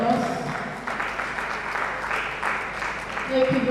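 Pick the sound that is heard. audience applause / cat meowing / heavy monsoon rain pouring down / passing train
audience applause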